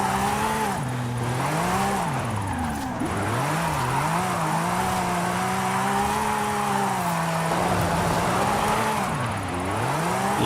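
A red Lamborghini drifts in Forza Horizon 5, its engine holding a loud, continuous wavering wail that rises and dips while tires squeal underneath throughout.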